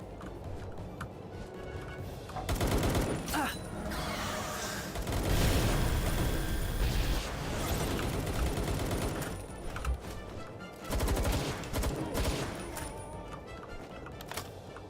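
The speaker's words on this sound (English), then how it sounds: "Right, we're just gonna blow these guys up. Ready? Fireball! Kaboom!" Fireball explosions in the Palworld video game burst out as loud, crackling blasts in several clustered waves, with rumbling debris between the bangs.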